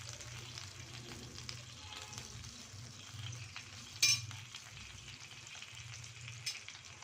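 Garlic fries gently over low heat in melting butter, giving a soft, steady sizzle close up, with a brief stirring clatter partway through and no talking.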